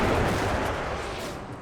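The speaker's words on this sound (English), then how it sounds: "We're firing back with cannons from the wall." Cannon and grenade fire in Empire Total War, a heavy booming battle roar that fills the moment and slowly fades, loud and close.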